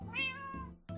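A single close cat meow from Minecraft, a clear rising-then-falling tone, followed by a short second call at the end, with no talk.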